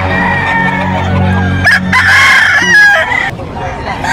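A rooster crows loudly and close at a busy gamefowl market in Bocaue, a long strained call with other fowl clucking and market noise throughout.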